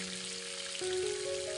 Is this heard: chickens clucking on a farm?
no